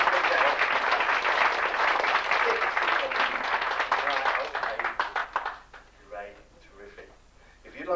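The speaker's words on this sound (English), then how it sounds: "Give Gemma a lovely round of applause." A theatre audience applauds a volunteer named Gemma as she is called up to the stage at a stage show, dense steady clapping for about five seconds, then thinning out to a few scattered claps.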